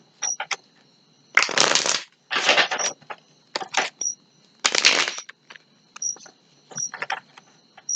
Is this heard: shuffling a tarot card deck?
yes